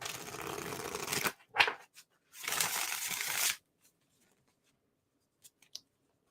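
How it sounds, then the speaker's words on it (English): Tarot cards being riffle shuffled up close, two crisp fluttering bursts of cards riffling with a brief tap between them, then near silence with a couple of soft clicks. "do one more riffle shuffle"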